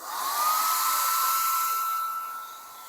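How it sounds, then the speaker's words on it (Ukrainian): A heat gun whirs steadily up close, heating vinyl film on a car, its whine rising briefly at the start then holding level before easing off slightly. "І так само ось беремо фен, гріємо."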